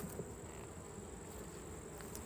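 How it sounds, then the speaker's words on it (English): Honey bees buzz around an opened hive colony during an inspection, a steady, dense, low drone of many insects close by with no voices. "these bees were so mean, so I had to come back with a smoker"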